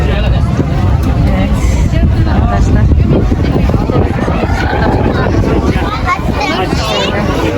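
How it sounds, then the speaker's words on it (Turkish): Low engine rumble and wind buffeting on a ferry deck, with a steady hubbub of people chatting nearby throughout. "Arkadaşlar vapura bindik."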